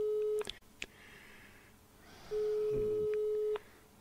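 A telephone ringback tone sounds with no answer, two long steady electronic tones separated by a pause, with faint clicks and low background noise between them.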